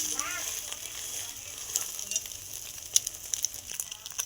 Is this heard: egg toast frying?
yes